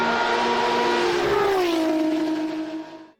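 A BMW M1 supercar engine revs hard and loud, its pitch climbing, then dropping as it eases off, before fading quickly away at the end.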